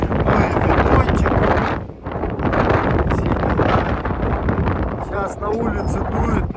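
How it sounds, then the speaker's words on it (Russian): Strong wind buffets the microphone aboard a sailboat at a marina in Korea, gusty roaring rises and falls across the clip, loud and close, with someone talking over it. "Сейчас на улице дует, наверное, за 30."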